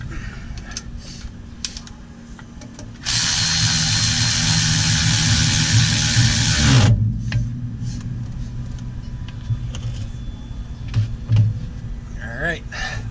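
A power tool whirs for about four seconds while snugging driveshaft bolts on a Jeep Wrangler JKU, loud and close, followed by lower mechanical rumble and someone talking.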